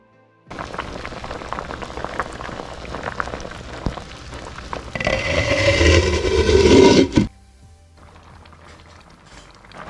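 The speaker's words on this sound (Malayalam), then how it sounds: "ഈ മീൻ ചേർത്ത് കൊടുത്തതിന് ശേഷം നന്നായിട്ട് ഒന്നുകൂടി ഒന്ന് തിളച്ച് വരുമ്പോഴേക്കും മൂടി വെച്ച് കൊടുക്കാം." Fish curry with water added bubbles steadily in a pot on the stove. The boil is loud and busy for several seconds before it cuts off abruptly, leaving a faint low background.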